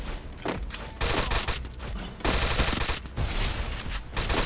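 Rapid bursts of MAC10 submachine gun fire in the shooter game Free Fire, loud and continuous with brief gaps between volleys, no talking.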